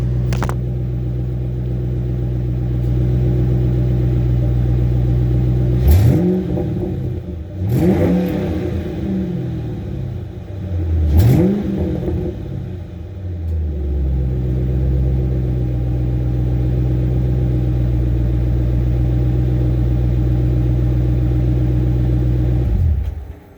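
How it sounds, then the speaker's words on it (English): A 2005 Ford Mustang GT Saleen V8 idles with a deep, loud exhaust rumble, then is blipped three times in quick succession, each rev climbing and falling back before settling into a steady close idle. "I'll give you a couple of revs."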